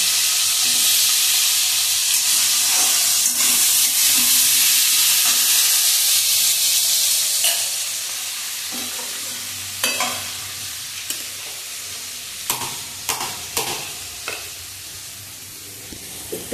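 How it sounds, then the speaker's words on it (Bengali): Small new potatoes fry in a pan with a steady loud sizzle that eases after several seconds, while a spoon stirs them with scattered scraping clicks near the end. "আলুটা এখনো ভাজা হয়নি, ছোট ছোট নতুন আলুগুলো হয় না,"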